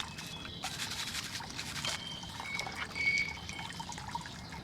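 Dirty water trickles and dribbles steadily at close range, a soft continuous wash with a few brighter splashy drips, no voices over it.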